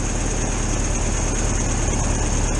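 An air-cooled engine in a VW T2 camper runs steadily after carburetor adjustments, producing a loud, even, continuous drone with a low pulsing throb and no pauses.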